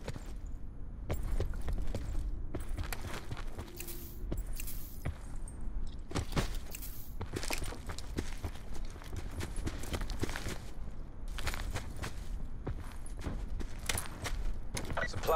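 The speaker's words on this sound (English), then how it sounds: "you realize how loud footsteps are" Footsteps in Call of Duty Blackout sound as a run of sharp, irregular clopping steps, fairly loud and close, with some faint clinking and game noise around them.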